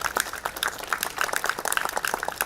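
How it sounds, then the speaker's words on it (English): Audience applause for an honorable minister at an academic China studies conference, a dense steady patter of many hands clapping throughout, moderately loud with no voices over it. "I request all the people present to give a big round of applause for the Honorable Minister."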